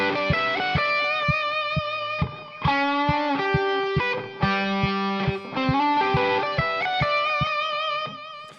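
A distorted electric guitar plays a melodic lead phrase, with quick picked notes and short slides. The tone is close and sustained and plays alone, with no voice.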